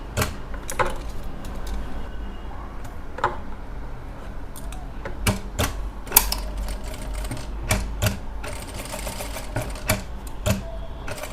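Sewing machine stitching a circular resham embroidery stitch, with the presser foot raised higher for the tighter round, gives a steady close mechanical whir broken by repeated sharp ticking clicks, with no talk.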